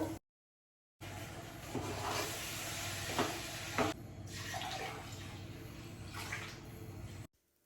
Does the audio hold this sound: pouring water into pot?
yes